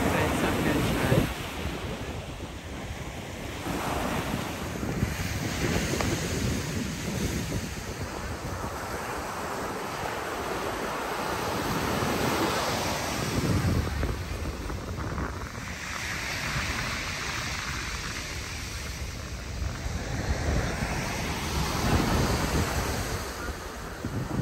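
Ocean surf rolling onto a beach at Fort Lauderdale, with steady wind buffeting the microphone; continuous broadband wash with swells rising and falling, close and fairly loud, no talking.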